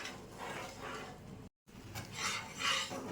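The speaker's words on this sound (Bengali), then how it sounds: "অনবরত নাড়তে হবে যাতে তলায় না ধরে যায়।" A spoon scrapes and stirs a sandesh mixture with powdered sugar in a pan, producing soft, close rasping strokes in an uneven rhythm, briefly cut to silence midway.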